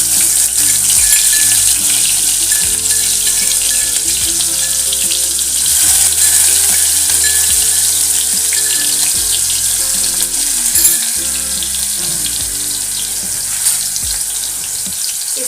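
Garlic, onion, ginger and green chili paste with cumin frying in a village kitchen pan, a loud steady sizzle filling the whole stretch with occasional stirring scrapes.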